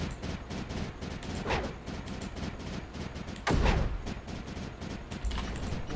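Mortar fire in the space game Space Crew, a string of moderate thumping shots with one heavier boom near the middle, set against a busy background of other battle sounds.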